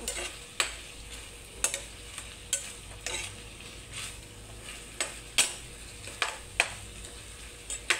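Meat fries in a pan as its fat renders out, a soft, continuous sizzle broken by sharp, repeated utensil clicks and scrapes against the pan every second or so.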